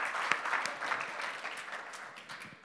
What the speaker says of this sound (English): I think we should just give them a little round of applause